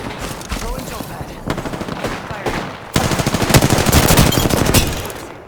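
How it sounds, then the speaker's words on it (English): Sustained automatic gunfire in an Apex Legends battle royale match, rapid bursts growing louder and denser partway through, with overlapping shots and in-game effects; no clear talk over it. "They're shooting at me?"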